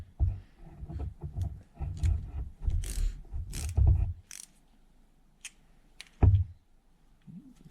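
A ratchet snugs up a 6mm bolt on a 1971 Kawasaki F7 motorcycle, a few quick runs of close clicks and metallic taps, then a pause and a final sharp knock.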